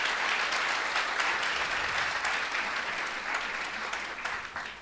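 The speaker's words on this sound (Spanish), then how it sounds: "denle un aplauso" A church congregation applauds during a sermon, a steady wash of many hands clapping at moderate distance that slowly tapers off.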